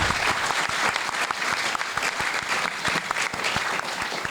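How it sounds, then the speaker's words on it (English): A studio audience at a game show breaks into a full round of applause, dense and steady clapping that stays loud and even from start to finish with no talk over it. "Give him a big round of applause."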